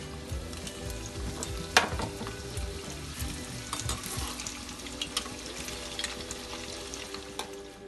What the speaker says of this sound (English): Now we will fry our strips.